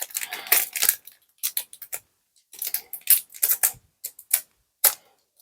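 Foil wrapping of a Pokémon card booster pack from a Dark Night (Nuit Noire) tripack being torn open, crisp crackling rips and rustles in bursts with short pauses, close and fairly loud, no talking.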